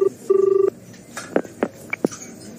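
An office telephone line ringing, with two long electronic ring tones followed by a few short clicking tones, faint and heard alone.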